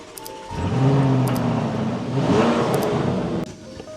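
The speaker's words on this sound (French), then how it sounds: "j'ai une voiture qui est tellement belle" A car engine revs up loudly and close by, holding a strong rising roar for a few seconds before cutting off, heard during a drive in Dubai.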